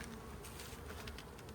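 Bees buzzing around a hive, a faint, continuous hum with no talking.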